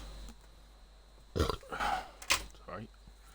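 A burp from a gamer during a live competitive match broadcast, a couple of short guttural bursts mid-clip, fairly close to the microphone in a quiet room.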